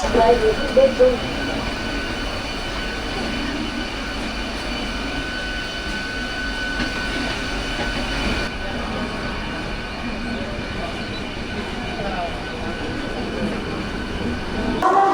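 A train leaving Howrah station, West Bengal, rumbles along steadily with a broad, continuous roar of wheels and carriage noise, close and loud throughout.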